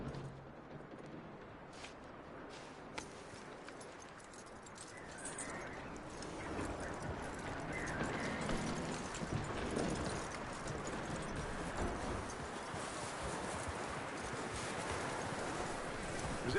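A horse's hooves clip-clop along at a walk in the video game Red Dead Redemption 2, soft and steady against an outdoor ambience.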